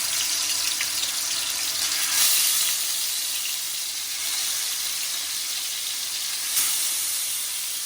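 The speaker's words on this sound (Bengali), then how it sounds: "তেলের মাঝে আমি মাছগুলিকে এখন দিয়ে দিচ্ছি।" Hilsa fish pieces dropped into half a cup of hot oil, producing a dense, loud, steady sizzle with a couple of brief crackling flare-ups and no talking.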